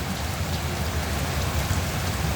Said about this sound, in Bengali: বৃষ্টি অনেক সুন্দর বৃষ্টি হচ্ছে